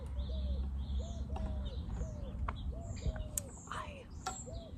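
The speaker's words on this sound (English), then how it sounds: "These birds, I swear." Pigeons coo in repeated soft phrases outdoors while smaller birds chirp and tweet at intervals, all fairly faint over a low background rumble.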